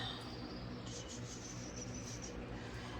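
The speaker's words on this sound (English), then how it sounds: "So you definitely gonna hear a fan until I get a more cooling system." An electric fan runs indoors in a hot room, a constant low broadband hum and whir that holds steady throughout, with a faint high chirping tone drifting over it.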